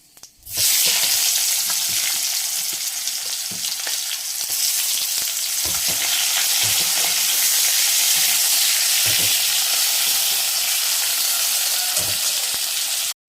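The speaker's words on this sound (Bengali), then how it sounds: "এখন আমি দিয়ে দেবো পেঁয়াজ।" Onions frying in hot oil with whole garam masala, bay leaf and cumin, a loud continuous sizzle with repeated scraping stir strokes throughout, close up and without talk.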